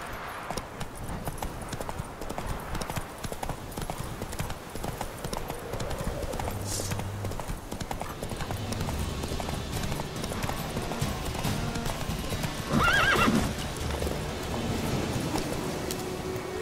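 Roach the horse gallops in The Witcher 3 with steady, rhythmic hoofbeats throughout, set over a continuous low ambient game backdrop, with a brief brighter sound near the end.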